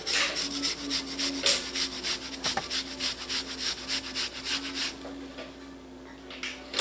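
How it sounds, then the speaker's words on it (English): Ginger is rubbed back and forth across a sharp Haturi cheese grater and zester, making a rhythmic series of close, rasping strokes, about two per second, that stop near the end into quiet handling. "And it's actually grating it very fine, just like how I like it."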